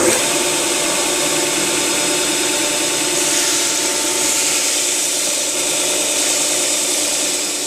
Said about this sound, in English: we're sanding with 120 grade sandpaper to get rid of all the rough edges and sharp edges